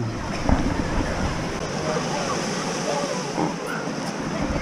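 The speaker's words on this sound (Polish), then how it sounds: "Siedzę sobie i obserwuję morze" Sea waves wash onto the beach at Jastrzębia Góra on the Polish coast, making a steady, moderate rush of surf blended with wind noise.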